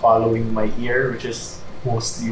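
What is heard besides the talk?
No distinct noise like a dog, phone or traffic.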